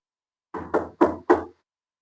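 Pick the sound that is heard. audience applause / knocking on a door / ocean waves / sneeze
knocking on a door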